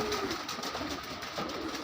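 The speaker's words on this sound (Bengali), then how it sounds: "ছাদের রেলিংয়ে বসে থাকা ধূসর আর সাদা কবুতরের দল আমাকে দেখেই নিজেদের মধ্যে এক ধরনের শোরগোল শুরু করে দিল" A flock of grey and white pigeons perched on a rooftop railing coo and fuss softly, quiet and somewhat distant, with no voices.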